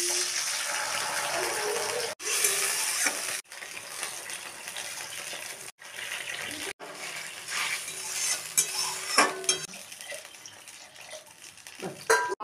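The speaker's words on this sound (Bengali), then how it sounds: "আমি এবার সসগুলো দিয়ে দেবো। এর মধ্যে আছে টমেটো সস, সয়া সস আর চিলি সস।" Tomatoes frying in a pan with tomato, soy and chili sauces added for a paneer dish, a steady loud sizzle with stirring and utensil scrapes, broken by a few brief gaps.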